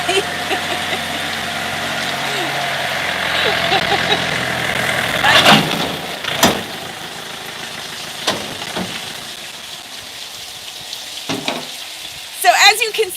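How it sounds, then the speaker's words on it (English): A tractor drives past on a busy animal sanctuary farm, a rough engine drone and rattle that fades as it moves away, with scattered knocks and clanks on top and a louder clatter near the end. "Tractor going by."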